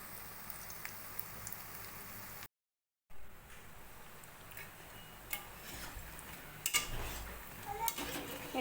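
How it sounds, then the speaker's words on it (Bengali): Lentil fritters (dal bora) fry in oil over a low flame, a soft, steady crackle dotted with quick pops and ticks, briefly cut to silence. "এরকমভাবে সেম পদ্ধতিতে আমি সব বড়াগুলো ভেজে নেব"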